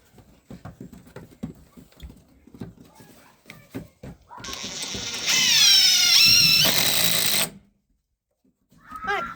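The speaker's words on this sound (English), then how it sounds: "I'm just going to screw this one in first" A power driver drives a screw into a wooden chicken coop: scattered handling knocks and clicks, then a loud whining motor burst of about three seconds that rises and bends in pitch before stopping abruptly.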